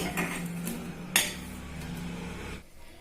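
Fried green chilies lifted out of a hot kadai onto a plate, with a few scraping clinks of a utensil against metal and one sharper clink partway through, fairly quiet.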